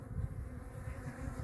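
Honeybees buzz on an open hive frame in a low, steady hum, close by and unbroken, with no talking.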